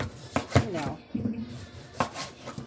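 A knife chops through potatoes on a cutting board while a Sunday pork loin roast with onions and carrots is prepared, giving a few sharp, close thunks spaced irregularly, with a voice speaking briefly between the cuts.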